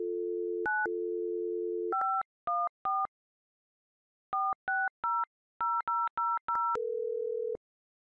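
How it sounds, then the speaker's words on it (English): Telephone keypad tones dialing a local number, a steady dial tone followed by a quick series of short two-tone key beeps in bursts, ending on a longer single tone. "You can dial local 7-digit numbers and local 10-digit numbers."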